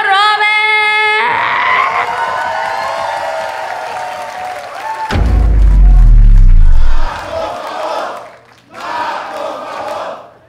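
A stand-up comedy roast crowd greets Tío Rober with loud applause, cheering and whoops that swell and break off, while an announcer's voice and music carry over the start of it.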